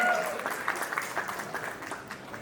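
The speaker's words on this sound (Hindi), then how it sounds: "Come on, everybody, give it up for Manish Jain." A stage audience applauds the introduction of Delhi Dabang captain Manish Jain at a celebrity cricket league event, a loud burst of clapping that fades gradually under a voice speaking over it.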